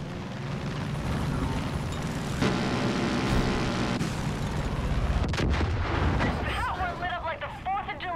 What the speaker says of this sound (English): only have to shoot the helicopter now